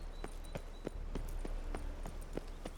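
Horse hooves clip-clop in The Witcher 3: Wild Hunt on PS5, a steady, faint rhythm of about a dozen evenly spaced sharp hits over a low ambient hum.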